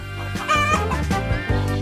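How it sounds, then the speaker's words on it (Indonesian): A chicken clucks loudly and close by, in a quick series of throaty calls with no other sounds around it. "Ayam?"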